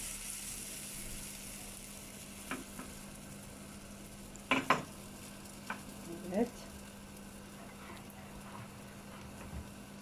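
Crepe bread cooks in a pan with a low steady sizzle, broken by a few sharp scrapes and taps of a utensil against the pan, close and moderately quiet.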